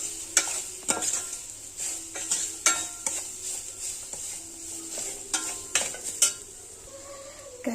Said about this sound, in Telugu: క్యారెట్ తురుము అయితే వేగిపోయింది